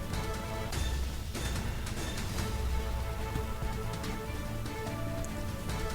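Rain driven by strong winds falls in Agra, a dense, steady hiss of drops with occasional sharper gusty bursts and no voices.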